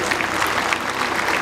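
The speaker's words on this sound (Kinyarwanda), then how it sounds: "Mumahe amashyi menshi" A crowd at a school education ceremony in a cathedral parish gives continuous, dense applause throughout a short moment, with no talking over it.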